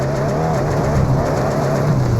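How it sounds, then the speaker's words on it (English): A car engine in an old PS3 racing game gives off a steady, droning hum that holds at one level throughout, with no talk over it. "that engine noise gets on my fucking nerves"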